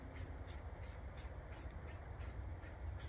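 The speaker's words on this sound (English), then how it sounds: "Just come over with spray paint." A spray paint can sprays onto a tactical shooting target in quick repeated hissing bursts at a steady rhythm, close and moderately loud over a low rumbling background, with no voices.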